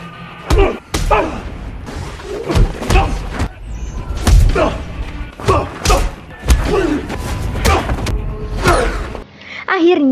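Heavy thuds and smacking blows land in an irregular series, loud and close, under tense dramatic sound with shouts between the hits.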